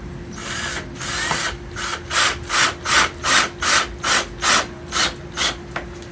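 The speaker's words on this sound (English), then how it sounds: "Put these screws in. You just gotta do it slow." A power drill whirs in a regular series of short bursts, about ten pulses, as screws grind into wood, close up.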